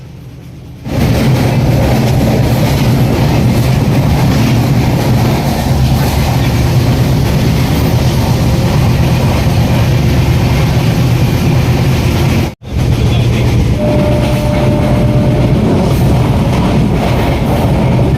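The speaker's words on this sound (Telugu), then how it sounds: "ట్రైన్ అయితే ఎనభై ఆరు తొంభై స్పీడ్లో పోతుంది" A passenger train runs loudly and steadily along the tracks at about 86 to 90 km/h, its heavy rumble and rhythmic clatter continuing with only a brief break.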